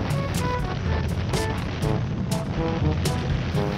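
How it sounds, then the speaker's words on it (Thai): Strong wind roars against a motorcycle rider's microphone at speed with no windscreen, a loud, steady broadband rush with a faint engine drone beneath it and no break. "ลมแรงมาก"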